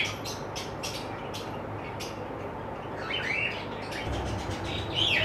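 Giribaz fancy pigeons in a pigeon and fish shop give repeated short chirps and calls over steady shop background noise, with brighter calls later on.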